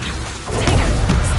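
The Confringo blasting spell cast in the video game Hogwarts Legacy, a brief rushing whoosh that swells into a loud, noisy crash.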